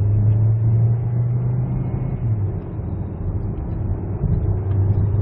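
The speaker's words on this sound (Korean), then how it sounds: "가속 한번 느껴보세요." Ssangyong Korando gasoline turbo car accelerating up a slight incline, heard from inside the cabin: a steady low engine hum and road rumble with a faint rising tone, no talking.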